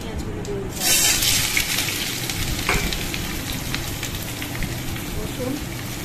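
Onions hit hot oil in a wok after whole spices and cumin, setting off a sudden loud hiss that settles into a steady, dense sizzle close by, with a voice speaking over it.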